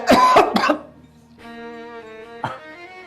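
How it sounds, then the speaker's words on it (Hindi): A man coughs hoarsely two or three times close by, followed by a sustained groaning, tonal voice. "खांसी हो रही है मुझे"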